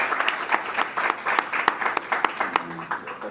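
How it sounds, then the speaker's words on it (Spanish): Applause from a lecture audience at a Spanish-language talk on Dante's political thought, a steady patter of many hands clapping at moderate volume for about three seconds, with a faint voice briefly audible near the end. "le agradecemos con un aplauso"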